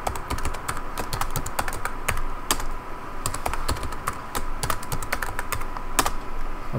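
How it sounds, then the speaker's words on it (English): Rapid clicking of keys on a computer keyboard as a password is typed, close and fairly soft, with irregular bursts of keystrokes and no talk. "we type password D and then root, and we enter the new password"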